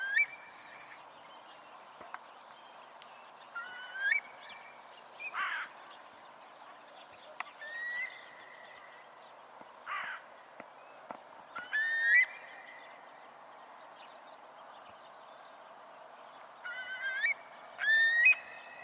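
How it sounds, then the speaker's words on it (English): A recorded curlew calls repeatedly in short bursts, its clear rising and bending whistles coming at intervals over a quiet background, a few closely spaced at the end, with no voices. "The curlew has a very distinct sound"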